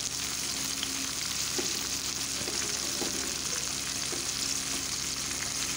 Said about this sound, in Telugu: అల్లం వెల్లుల్లి పేస్ట్ బాగా వేగింది కాబట్టి నేను టమాటా కూడా యాడ్ చేసుకుంటున్నానండి.